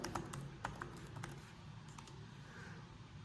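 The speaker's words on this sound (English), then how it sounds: "one-handed typing" Quiet, uneven keystrokes tap on a computer keyboard as someone types one-handed, with irregular clicks and short pauses against low room noise.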